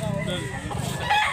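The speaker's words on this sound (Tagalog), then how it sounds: "Gandang manok" A rooster crows nearby, clear over the background, with faint voices and farm noise around it, at a chicken sale in Consolacion, North Cebu.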